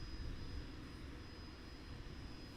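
A Blackburn Buccaneer jet aircraft taxiing at Cotswold Airport, heard as a steady broad engine roar with a thin high whine running throughout, fairly distant and even, with no talking.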